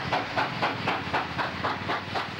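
A steam locomotive hauls a westbound goods train in New South Wales, its exhaust chuffing in a steady, even rhythm of rapid beats over a continuous hiss, fairly close and loud.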